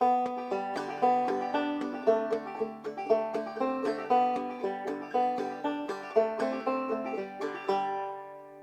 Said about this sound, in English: And from that, we're learning how to play our very first banjo tune, which is called Skip to My Lou, and it sounds like this.